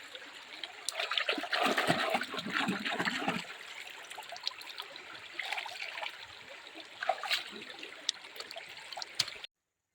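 Water rushing and trickling over rocks in the slippery, rocky Sona Dai river at Khandi Ghat near Sambalpur, close and splashy at first, then a quieter steady flow with occasional splashes.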